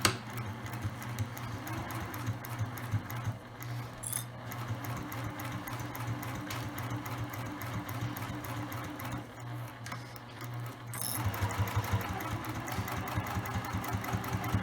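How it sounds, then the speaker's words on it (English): A sewing machine stitches a lined tote bag seam at a half-inch allowance in a steady close whirring run, with a short pause to backstitch before the motor picks up again. "My seam allowance, just a reminder, is 1/2 inch, and I'm going to start to sew."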